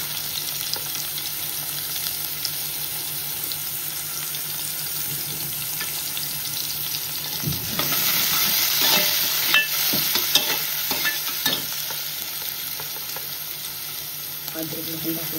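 Whole garam masala spices, onion and green chili frying in a pan for chicken biryani, a steady sizzle that swells midway as the ingredients are stirred, with repeated scraping and spoon clinks.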